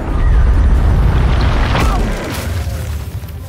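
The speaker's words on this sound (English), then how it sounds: "So that meant big explosions." A big explosion on a film set booms loudly at once, a deep rumbling blast that rolls on for about two seconds before trailing off into a fading roar and debris noise.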